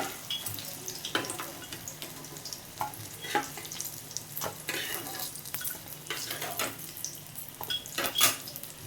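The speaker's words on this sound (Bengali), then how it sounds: "দেখো বেগুনগুলো আমার ভাজা হয়ে গেছে, আমি তুলে নেবো।" Eggplant pieces frying in oil in a pan, a close, moderate sizzle broken by repeated clinks and scrapes of a spatula or utensil against the pan.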